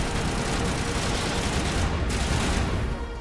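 Rifle fire rattles continuously in Mass Effect combat, as a dense, loud and steady stream of shots that carries on without a break.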